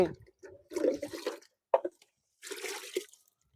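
Alum mixture poured into a pot of water gives a few splashing, gurgling bursts with short pauses between them, close and moderately loud, and no talk over it.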